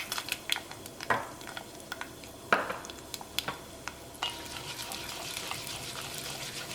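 Urad dal and dried red chili sizzle with mustard seeds in hot oil, a steady close frying hiss broken by sharp popping crackles and a few louder spits, without any talk.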